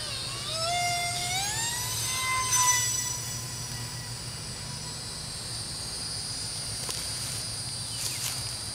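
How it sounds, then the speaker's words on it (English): An E-Flite Citation Longitude RC jet makes a full-throttle pass, its electric ducted-fan whine rising sharply in pitch and then holding a high steady tone, faint and distant. "I'm gonna try and turn it this way and give it a full throttle pass."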